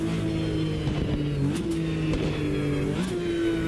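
Corvette race cars in Automobilista 2 pull away at full throttle, a steady loud engine roar with rising tones as gears change, continuous with no talk.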